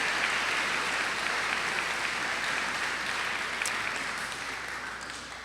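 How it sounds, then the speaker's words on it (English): An audience at a prison education program commencement applauds steadily, a dense, sustained clapping that slowly fades toward the end. "we can applaud for that"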